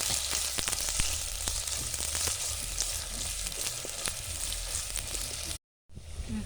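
Loud, steady sizzling of small onions frying in a pan for a chicken curry, with crackles and pops throughout, then a brief dropout before the sizzle resumes.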